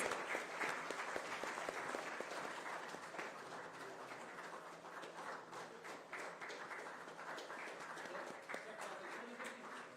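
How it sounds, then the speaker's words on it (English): Audience applause at the 15th Social Entrepreneur of the Year Award ceremony, a steady dense clapping that fills the hall for ten seconds, with murmured voices and a few cheers blended underneath. "Ladies and gentlemen, a big round of applause."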